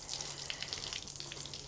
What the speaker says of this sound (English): I just filled it with water to see how much the tank would hold